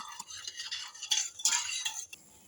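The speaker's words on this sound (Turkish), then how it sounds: "suyu ekledim ve iyice karıştırıyorum" A spoon stirs sugar and water together in a pot for kadayif syrup, giving a close run of scraping, clinking strokes with brief pauses and no talking.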